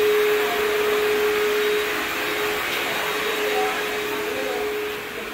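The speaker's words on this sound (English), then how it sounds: "vacuuming the floor" A Pro-Team HEPA backpack vacuum runs steadily while cleaning a floor, its close, loud motor whine holding an even pitch throughout with only a slight drop near the end.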